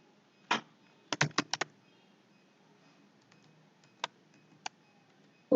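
A name is typed on a computer keyboard in a quiet room: a single key press, then a quick burst of four or five clacks, then two more isolated taps, all close and crisp.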